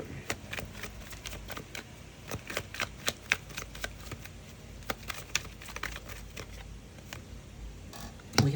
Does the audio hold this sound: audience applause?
no